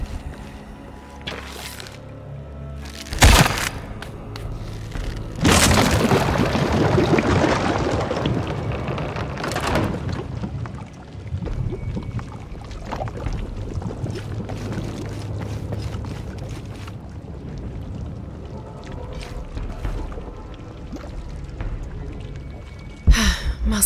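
Liquid blood rushing and gushing through stone channels in the action-adventure game Shadow of the Tomb Raider, a steady watery wash that swells loudly for a few seconds, with a couple of sharp knocks and low mechanical rumble.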